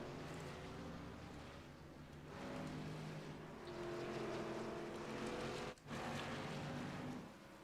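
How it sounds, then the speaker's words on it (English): Race trucks in a truck series championship finale at Las Vegas drive out of pit road, a steady distant engine drone that swells and holds, with a brief dip partway through. "You can see cars coming out of pit road now"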